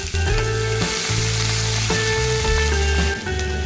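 Mustard seeds, cumin and chopped onion fry in two spoons of hot oil in a kadai, a loud, close, dense sizzle with crackling and stirring shifts running throughout.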